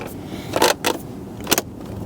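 Plastic trim around the gear shift of a Toyota Sienna gets pressed home: three short, sharp snaps of clips seating, close and crisp over a quiet background with no speech.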